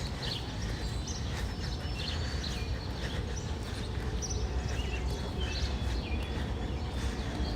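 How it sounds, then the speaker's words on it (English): Small birds chirping and tweeting in Central Park, New York, scattered short calls over a steady rumble of city and park background, with faint clopping hooves somewhere in the mix. "You can hear all the birds are out, chirp, chirp, chirping away."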